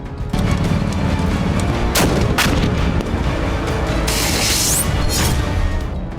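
Artillery fires during Chinese military exercises near Taiwan, with heavy booms and sharp blasts over a constant loud rumble and a rushing hiss partway through.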